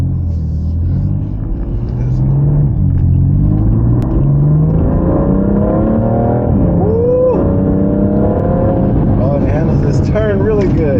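A 2014–2019 F80 BMW M3 rumbles deep and close from inside while driving, its engine note swelling and revving up and down continuously, with a voice occasionally present.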